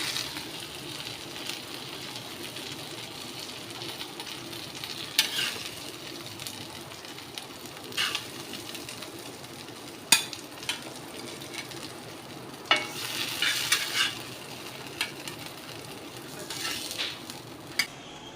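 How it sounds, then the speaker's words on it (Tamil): A masala-coated fish fry hisses steadily in a pan at moderate volume. Occasional clinks and scrapes of a utensil against the pan punctuate the sizzle as the fish is turned and lifted out. "இப்போ இந்த சைடு நல்ல ஃபிஷ்ஷு நல்லா ஃப்ரை ஆகிருக்கு"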